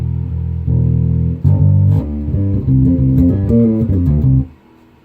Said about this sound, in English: When your strings sounds like rubber, it might be time to change them.